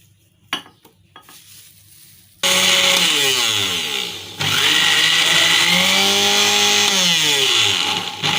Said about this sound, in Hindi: सबसे पहले मैं इसकी प्यूरी बनाऊंगी, मैंगोस की प्यूरी बनाऊंगी ब्लेंडर में